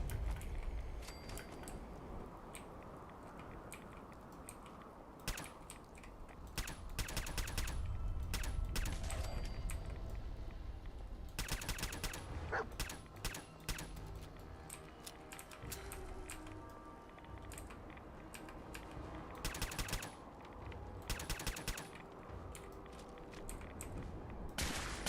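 Scattered gunfire in Fallout 4 pops in irregular bursts of shots over a low rumbling background, with some volleys sharp and close and others fainter.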